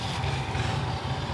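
A strange, rumbling airplane passes overhead above an outdoor workspace where wooden raised garden beds are being built, giving a steady, throaty, motorcycle-like low drone that holds without a break.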